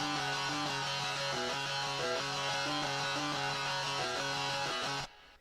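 Layered electric guitar power chords, the same part cloned and panned wide, ring out as a thick sustained chord progression, loud and steady for about five seconds before cutting off abruptly.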